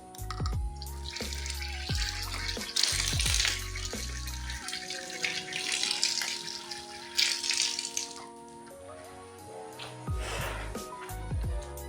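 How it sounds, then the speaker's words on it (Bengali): Hands being washed under a running tap, a rushing splash of water that comes and goes in bursts over steady, music-like tones underneath. "হাতটা ধুয়ে নি।"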